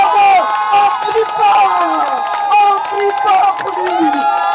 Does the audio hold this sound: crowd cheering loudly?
yes